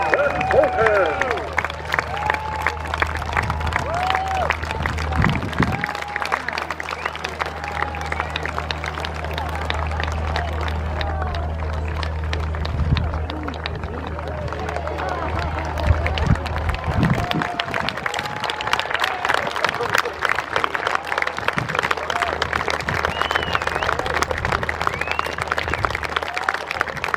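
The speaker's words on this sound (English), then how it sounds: "please cheer, please wave, please jump up and down for the Royal Air Force Parachute Display Team, the Falcons" A large outdoor crowd at an RAF family day airshow applauds and cheers for the Royal Air Force Falcons parachute display team, with sustained clapping, scattered shouts and general hubbub, and an engine-like drone in the background.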